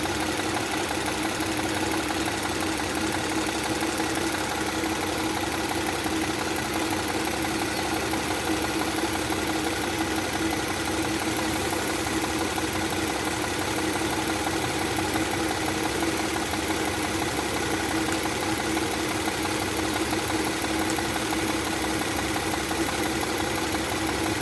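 An Audi 3.0T engine idles and shakes with a continuous, dense mechanical drone and steady vibration, close and loud, with no one speaking.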